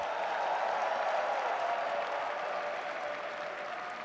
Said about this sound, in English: Can you give a round of applause for Tyler and NRS for showing us out?